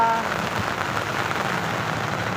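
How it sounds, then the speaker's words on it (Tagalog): Heavy afternoon rain pours down at Manila Bay Walk, a dense, steady hiss of drops on hard surfaces that stays loud and even throughout, with no voices. "Tama kita po natin na ang lakas ng ulan ngayon dito sa Malati."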